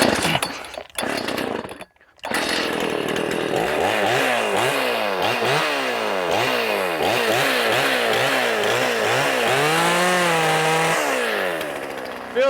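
Chainsaw with a freshly sharpened chain, rakers filed down, cuts into wood after a few short revs, a loud rasping snarl that pulses rhythmically as the bar bites and self-feeds through the log.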